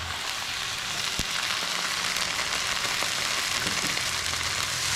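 Rendang frying in a pan sizzles loudly and steadily as water is added bit by bit, a dense close hiss with a few soft knocks from stirring and no voices.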